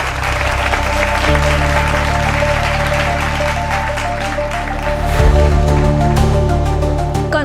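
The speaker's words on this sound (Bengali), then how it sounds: "জোরদার হাততালি হয়ে যাক রেণুকার জন্য" Steady applause for Renuka from a group during a crime-drama scene, a continuous wash of clapping laid over background music throughout.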